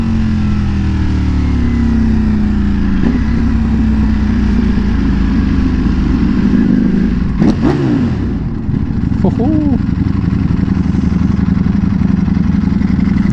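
A Ducati Panigale V4S motorcycle engine runs loud and close as a rider cruises at night, with a sustained drone, shifting revs and a brief sharp rising rev blip near the middle, heard under wind noise.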